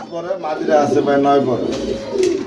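Fancy pigeons, including Jacobins and Modenas, coo in low, throaty rolling calls, close by, mixed with some background voices and rustling at a pigeon sale.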